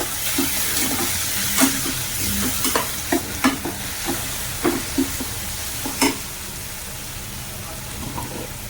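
Tomatoes sauté in a pan for a small-prawn fry while a spoon stirs them, knocking against the pan in repeated clanks over a constant frying hiss.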